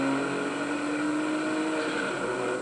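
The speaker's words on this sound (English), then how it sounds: "The new Rothmans Porsche is let loose at Monza for the very first time." Rothmans Porsche 956 race car at Monza, its engine a loud, steady sustained drone with strong harmonics, continuous throughout with no pauses.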